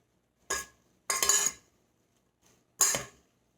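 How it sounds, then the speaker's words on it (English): Lettuce tossed gently with two spoons, three short bursts of clinking and rustling in quick succession with quiet pauses between them, close and clear. "I'm going to toss this lettuce around very gently with my 2"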